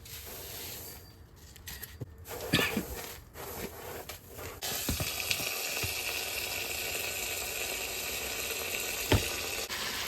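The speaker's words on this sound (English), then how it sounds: "While I'm over here washing all this perlite" Water running over perlite being washed, a steady hissing, sizzling wash that swells and holds loud after a few scattered rustles and knocks near the start.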